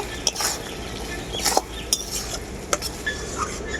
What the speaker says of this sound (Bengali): চিনিটা দেওয়ার পর খুব ভালো করে নাড়াচাড়া করে নিয়েছি